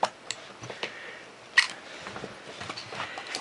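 A Canon AE-1 Program film camera has its back opened: a few close mechanical clicks and a sharper latch snap partway through, followed by faint handling rustle, with no speech.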